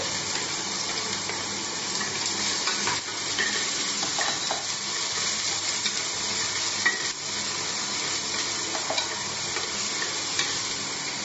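Onion frying in a pan for Meghalaya-style black sesame dal, a constant bright sizzle with intermittent stirring scrapes and light clicks, close and steady without talk.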